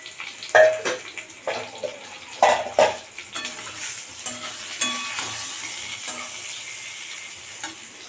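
Already-fried potatoes are stirred into a pan for egg curry, with a spatula scraping and clattering in several distinct bursts over a low sizzle, fairly close by.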